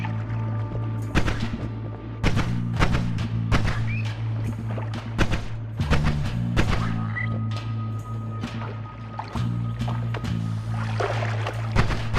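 Wand shots fired in the game Noita, a rapid series of sharp, punchy bursts scattered over a steady tonal game soundtrack, loud and close.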